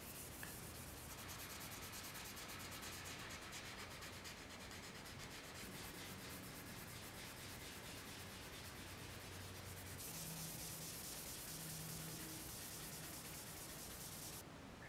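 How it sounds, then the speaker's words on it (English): Hand sanding of a guitar's finish with 1200 grit sandpaper, a soft continuous rubbing hiss with slight shifts in texture as strokes change, quiet and steady with no talking. "once I've finished sanding with the 1200 grit"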